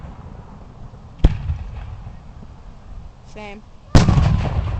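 Loud Canada Day fireworks exploding outdoors: two sharp booming bursts, the second heavier with a lingering rumble, over steady crowd background and a brief spoken word between them.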